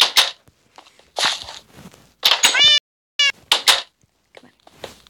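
A cat meows several times indoors, clear close tonal calls in short bursts separated by quiet gaps, with a little thumping in between.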